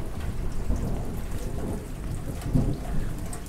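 Steady rain falls across a southern garden planted with ferns and cryptomeria, a dense continuous wash of drops close by with a deep rumbling undertone throughout.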